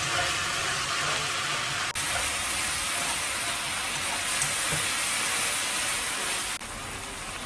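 Sliced onions and pork belly stir-fry in added water until it cooks off, producing a continuous loud, close hiss of steam and bubbling with no talking.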